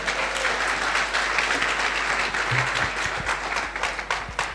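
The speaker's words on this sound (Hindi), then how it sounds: "जानना चाहेंगे तो जोर से ताली बजाओ" An audience at a sales motivation seminar applauds in a dense, continuous wash of clapping that holds steady for several seconds.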